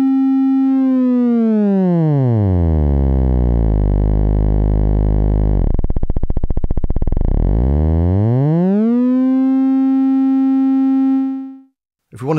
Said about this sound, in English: as we turn this up, it blends itself into a ramp or a sawtooth